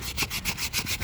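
A brush scrubs grease off the metal arm of a 1970 Jayco pop-up camper, close, quick back-and-forth rubbing strokes in an even rhythm.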